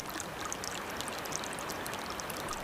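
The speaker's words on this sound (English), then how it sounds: "the sound of that water" A creek runs steadily through a wooded coulee thick with fallen leaves and moss, its close, even rush and trickle filling the scene with no voices.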